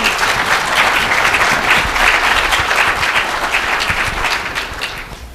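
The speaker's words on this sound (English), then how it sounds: "Give her a round of applause." Audience at a talk about Parkinson's disease gives a steady, dense round of applause, loud and close, easing off slightly at the end with no voices over it.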